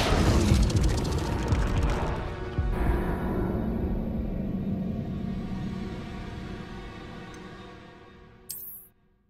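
The Incendio fire spell is cast in Hogwarts Legacy: a loud crackling burst of flame that roars, then tails off over several seconds, ending in a short bright magical flare before silence.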